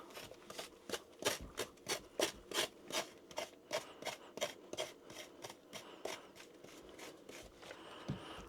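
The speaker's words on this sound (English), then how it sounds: "you can use this to pretty much cut. You can cut into it, and you can use it to scrape." Rhythmic scraping and rasping as a pumpkin scraper glove works at a pumpkin lid, fairly quiet, close strokes repeating in a steady pattern.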